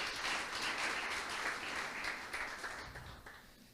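A church congregation claps together in a broad, crackling wave of applause that gradually thins and fades toward the end, heard at a moderate distance.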